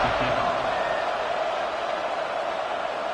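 A stadium crowd roars in a college football video game at the Memphis Tigers home game against Tulane, a dense and steady wall of cheering that holds loud for the whole moment.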